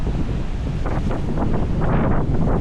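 Wind buffets the microphone over the ocean surf at Dahican Beach in Mati, Davao Oriental, a steady loud rush with rolling swells of breaking waves and no voices.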